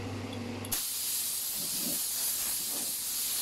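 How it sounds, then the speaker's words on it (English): Compressed air blowing dust out of a small two-drawer wooden vanity, a loud continuous close hiss that starts suddenly after a brief moment and holds steady to the end. "Just using some compressed air to clean out."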